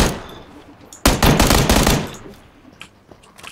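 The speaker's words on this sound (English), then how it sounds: "Oh, they're shooting at us." Burst of rapid automatic gunfire in a PUBG match, a loud dense volley lasting about a second that then trails off into scattered fainter shots and ambient noise.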